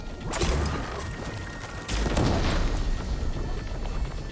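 An explosion in the video game Horizon Forbidden West during combat, a heavy booming blast with rumbling, crashing debris that swells twice over a few seconds, loud and dense.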